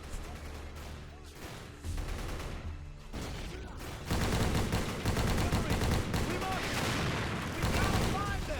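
Gunfire in a Medal of Honor video game battle, rapid continuous bursts of automatic weapons and booms building in intensity, loud and dense with voices mixed in.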